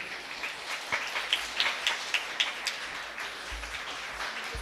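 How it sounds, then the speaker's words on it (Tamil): An audience at a school dance performance during the Margazhi Festival in Coimbatore claps in a steady, hissing patter of applause that fades off toward the end. "கரகோஷம் கொஞ்சம் பலமாக இருக்கட்டும்."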